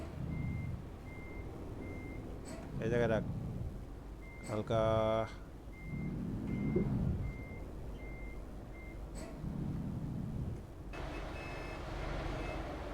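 A truck in a bus simulator game, driven on a Bangladesh map between Faridpur and Dhaka, sounds a steady chain of reversing beeps. A voice repeatedly cuts in, giving directions over the beeping and the engine rumble.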